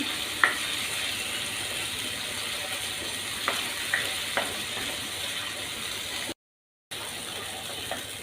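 Food frying in a pan for veg khandvi, a continuous soft sizzle with a few sharp clicks and taps from utensils, briefly cutting out to silence partway through.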